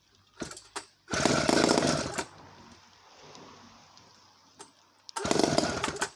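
A vintage Clinton D55 chainsaw engine fires in bursts, with short pops followed by a loud sustained run, a quieter idle, and a final revving burst, close up.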